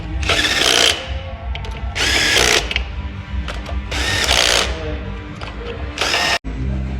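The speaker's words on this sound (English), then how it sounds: "Tighten up all the head bolts in this" Ratchet wrench or power tool run in four loud bursts, each about a second long, with quieter mechanical clatter between them, while the head bolts on an SRT Hemi V8 are tightened in sequence during engine assembly.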